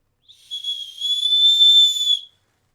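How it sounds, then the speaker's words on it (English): A plastic safety whistle built into a backpack's chest-strap buckle gives one steady, shrill, high-pitched blast of about two seconds, close and loud, with no other sound around it. "The safety whistle built right into it, which I think is pretty cool."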